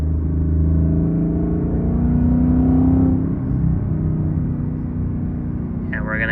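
A manual Ford Mustang GT V8 cruises in third gear with a deep, steady engine rumble from inside the cabin, the pitch easing slightly midway, loud and close.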